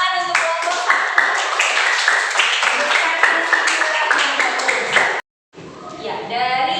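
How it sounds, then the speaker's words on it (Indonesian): Schoolchildren in a classroom clap for a group during a science lesson, a dense burst of many small hands that runs steadily for about five seconds, cuts out briefly, then resumes with children's voices chattering over it. "Iya, tepuk tangan untuk kelompok"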